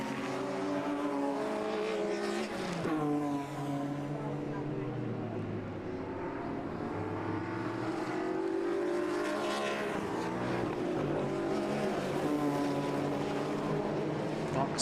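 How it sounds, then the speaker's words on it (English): Race cars at Donington Park, a Morgan battling a BMW, roar past in a continuous engine drone with rising and falling pitch as they pass, heard under steady race commentary. "the Pratt family and the Morgan battling with the Mark Smith BMW"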